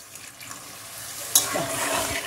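Water pours into a pot of pointed gourds during home cooking, starting as a faint trickle and swelling into a steady splashing rush partway through, close and moderately loud with no talking.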